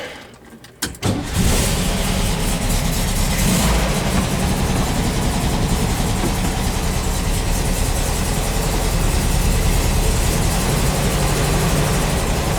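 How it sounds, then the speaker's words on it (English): A VW bus engine cold-starts after a brief crank, then settles into a steady, loud, rumbling idle that holds unchanged for several seconds, close by, with no talking. "should be a cold start"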